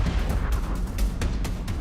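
Mount Pelée's volcanic explosion over Saint-Pierre on 8 May 1902, rendered as a deep continuous rumble punctuated by repeated heavy booming bursts, with no voices.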